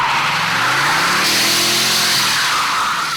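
An electric performance car with instant torque, about 130 mph top speed and 0 to 60 in 4 seconds, accelerates hard with a rising whine and tire noise, loud and close throughout with no talk.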